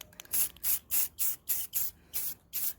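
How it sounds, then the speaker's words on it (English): Aerosol spray paint hisses in eight short, evenly spaced spurts, close and crisp, coating a glitter tumbler cup. "we're going to stay a few inches apart in just little spurts, just like we did when we first sprayed the cup"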